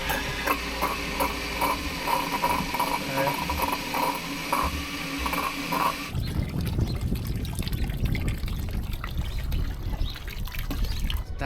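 A replacement boat bilge pump kicks on by itself after the bilge is filled with water, giving a steady mechanical whir with trickling and gurgling water, followed by a rougher, louder rush of pumped water.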